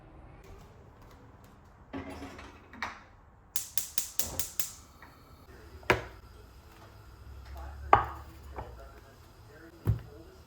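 Eggplant being cut on a board in a home kitchen, sparse sharp knife strikes with a quick run of six rapid chops near the start, then isolated single taps spaced out, close and fairly quiet.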